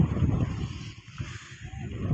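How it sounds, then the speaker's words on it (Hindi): Very strong wind buffets a high mountain peak at Ganga Choti in Kashmir, a faint, uneven low rumble that swells and dips, with no voices. "बहुत तेज़ हवा चल रही है, बहुत तेज़"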